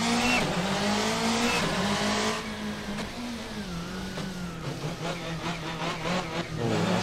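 Rally car drifting across a snowy Monte Carlo stage in modded Assetto Corsa, engine droning steadily and pitch sliding down then recovering, with tire squeal and skidding layered over the motor throughout.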